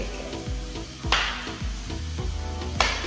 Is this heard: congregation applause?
no